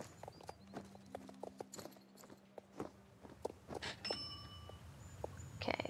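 Horse hooves clip-clop in an uneven walking rhythm as a horse is ridden toward a riding arena in a video game, fairly close and clear, with faint chimes in the background.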